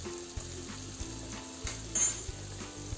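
Beef kavurma fries in a pan while a spoon stirs it, giving a low steady sizzle broken by regular scraping strokes and one brighter metallic clink, all close and with no talk.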